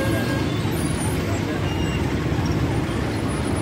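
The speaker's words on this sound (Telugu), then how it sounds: "ఇక్కడ మరీ దారుణంగా ఉంటుంది ట్రాఫిక్ అయితే." Heavy city traffic rumbles steadily at the Sarojini Hospital bus stop in Hyderabad, a dense, continuous roar of engines with faint background chatter.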